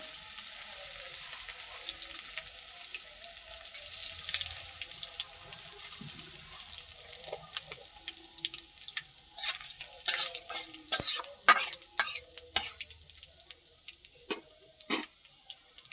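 Tempering spices fry with ginger and cucumber in hot oil: a soft background sizzle gives way to busy clattering stirring and utensil knocks in the second half, close and unaccompanied by speech.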